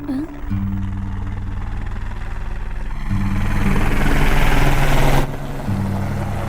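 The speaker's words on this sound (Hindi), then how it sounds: "भैया वो देखो हेलीकॉप्टर।" A helicopter drones steadily overhead with a rhythmic rotor thump and a low engine tone, swelling louder midway before easing back, with brief talk at the start.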